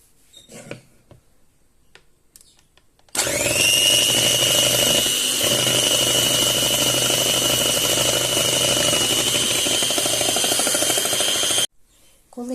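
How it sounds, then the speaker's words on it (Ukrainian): Electric mixer running steadily at high speed as it whips egg whites for a ring-shaped cake, starting abruptly after quiet and humming continuously for about eight seconds before cutting off, with no talk over it. "Білки починаємо збивати в іншій ємності сухі, сухими вінчиками."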